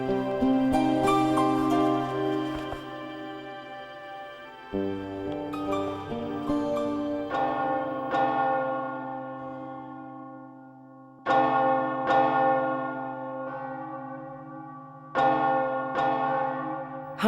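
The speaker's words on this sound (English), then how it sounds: "Church bells were rung for every death. The bells were hoarse with tolling." Church bells tolling for the dead during the Great Plague of London: loud, resonant strikes repeated every few seconds, each leaving a long ringing decay that overlaps the next, with no voices.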